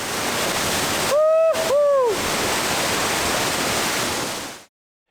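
Steady broadband rush of a mountain waterfall in Val Zemola near Erto, loud and continuous, with two brief whistling tones over it before the sound cuts off near the end.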